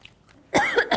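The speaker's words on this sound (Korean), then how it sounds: "지금 누가 기침 소리를 내었어?" One short, sharp cough bursts out close by after a quiet moment during a casual football defence training session.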